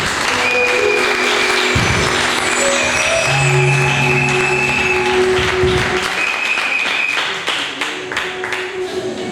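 An audience at a church youth rally applauds to welcome the regional chairlady, a full sustained round of clapping that tapers near the end, with some voices and tones mixed in.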